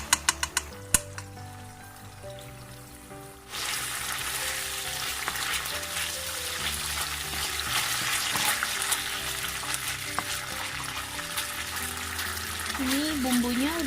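Chili garlic sauce seasoning is stir-fried in hot oil, beginning with a few spoon clinks and quiet sizzling before a sudden loud, dense hiss takes over and stays constant, with faint voices at the very end.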